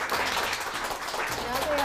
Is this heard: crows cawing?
no